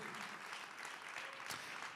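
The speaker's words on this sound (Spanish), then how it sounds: "De ese aplauso de alabanza al Señor." A church congregation claps in praise, a soft, even patter of many hands held steady for two seconds at some distance.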